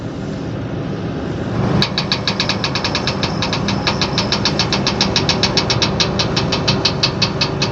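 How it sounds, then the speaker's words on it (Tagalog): A boom truck engine runs outdoors on a desert work site, idling with a loud, steady mechanical rumble and a fast rhythmic knocking clatter that starts after about two seconds. "Maingay"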